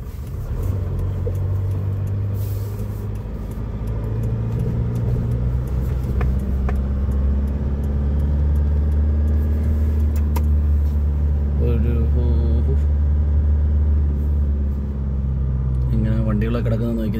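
Cars rumbling along a misty road in Saudi Arabia at dawn, with continuous low engine drone and passing traffic close by as someone talks over it.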